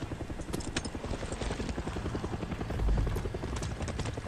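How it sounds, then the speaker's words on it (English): Helicopter in the video game Far Cry 6, a steady rapid rotor thump close by and fairly loud, with a low boom swelling near the middle. "Helicopter's gonna go for me, I don't care."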